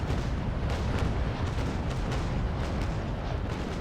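Cannon broadside fire in the naval combat game Naval Action, a Trincomalee frigate duelling a St. Pavel: a dense, continuous roar of overlapping booms and rumbling blasts at steady loudness throughout, with no voices.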